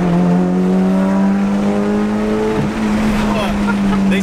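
A Mitsubishi Evo 8 with its first performance mod accelerates hard: a loud, close engine roar climbing steadily in pitch through a pull, with no talk over it.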